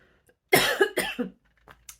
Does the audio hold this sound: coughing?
yes